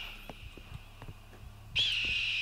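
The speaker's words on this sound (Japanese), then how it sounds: "鳥が鳴ってる。" A bird call from the horror video game Maid of Sker: after a few soft thuds, a loud, steady warbling whistle-like cry starts abruptly near the end and carries on alone.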